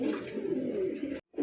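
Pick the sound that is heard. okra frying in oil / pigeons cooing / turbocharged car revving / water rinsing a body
pigeons cooing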